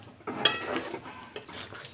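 A spatula scrapes and clatters against a pan as okra curry sprinkled with kasuri methi is stirred with the heat off, giving a few close, uneven metallic knocks.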